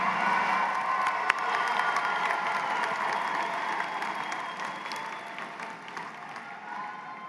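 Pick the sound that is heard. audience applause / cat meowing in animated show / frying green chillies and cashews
audience applause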